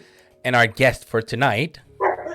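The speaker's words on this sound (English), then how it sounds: "my dog, if you can hear that in the background" A dog barks in short bursts in a home setting, several sharp woofs close together, mixed in with someone talking over them.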